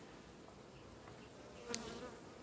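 Black honeybees hum steadily on a brood frame in a young colony, a soft, even drone with no voices heard.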